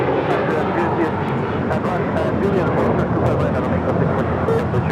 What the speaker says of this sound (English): This is JetBlue Airways 888 taking off to Boston on an A321.